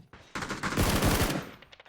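Gunfire in PUBG on the Erangel map: a short, loud, rapid burst of automatic shots lasting about a second, fading into quieter echoes.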